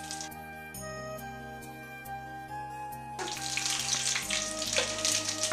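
Dried red chillies and two bay leaves hit hot oil, bursting into a loud, steady sizzle about halfway through, with music playing underneath throughout.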